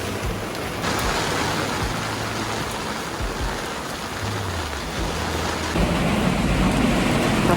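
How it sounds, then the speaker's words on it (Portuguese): Heavy rain from a summer storm pours down at a marina, a dense, loud and unbroken roar with low rumbling underneath and no voices. "Tá chovendo muito."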